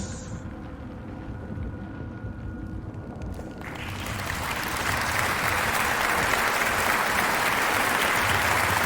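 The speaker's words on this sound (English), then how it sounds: "A round of applause." After a few seconds of low murmur, a crowd breaks into loud, sustained clapping that swells and keeps going to the end.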